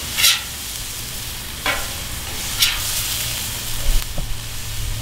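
A smoked gouda cheeseburger patty cooks on a hot grill with a steady, close sizzle, broken by a few sharp scrapes or taps of a spatula.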